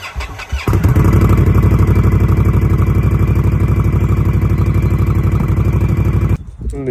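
A motorcycle with its old stock exhaust runs loud and close, a steady rapid thumping drone that holds for several seconds before cutting off near the end.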